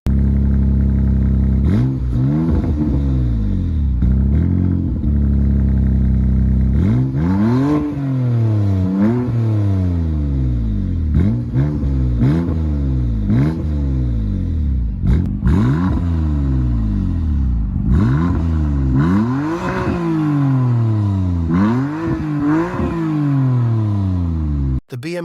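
BMW M4 Competition exhaust, loud and close, revving and accelerating repeatedly with sharp rising engine sweeps, gear shifts and brief drops between pulls over about twenty-five seconds.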